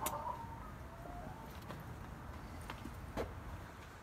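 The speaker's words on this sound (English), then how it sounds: "some of the chickens are just learning how to lay eggs" Chickens clucking in a coop where hens are learning to lay eggs, with scattered soft clucks and brief calls over a steady low farmyard background.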